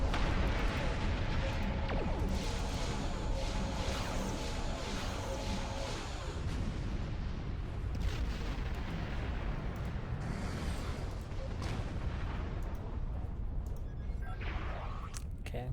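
Orbital weapons fire in the Star Trek Online space game, a loud, dense wall of rumbling blasts and explosions that roars steadily for the whole stretch.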